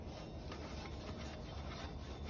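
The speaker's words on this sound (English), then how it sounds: "I'm just oiling the grates a little bit" Oil is rubbed onto the grates of a brand-new tabletop grill, producing a soft, steady, even scrubbing noise that runs continuously at low volume.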